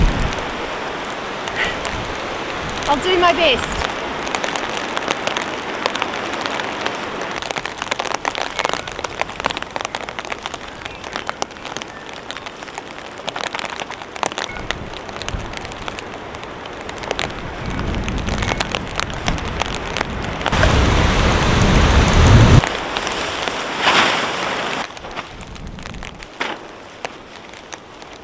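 Strong wind gusts roar across open air at a winter tent camp, buffeting a tarp in waves with rain-like patter; a brief spoken remark is heard partway through.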